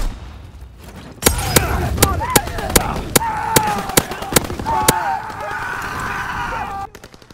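Grenade and explosive blasts in Call of Duty: WWII, a run of sharp impacts and heavy gunfire in a wartime street battle, with shouting voices and clatter throughout.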